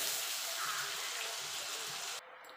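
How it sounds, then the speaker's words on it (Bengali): Water pouring steadily from a mixer grinder jar into a cooking pan in a home kitchen, a close, continuous splashing gush that stops abruptly near the end. "মিক্সির জারটা দিয়ে একটু জল দিয়ে দেবো"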